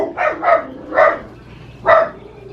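A dog barks four times on a porch, sharp, close, fairly loud barks in a quick pair, then a single bark, then one more after a short pause, with no talking.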